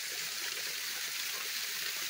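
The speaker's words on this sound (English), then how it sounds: "That way the water will pour into here and make a lot of noise." Steady rushing meltwater pouring into holes dug in the ground, a continuous broadband wash, even and unbroken throughout.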